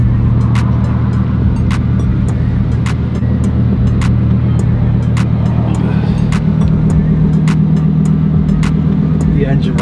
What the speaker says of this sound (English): The engine right behind you.